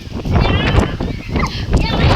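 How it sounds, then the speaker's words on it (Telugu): Strong wind buffets the microphone in loud, continuous roaring gusts, with a faint voice partly buried underneath. "భయంకరమైన గాలి ఉంటుంది"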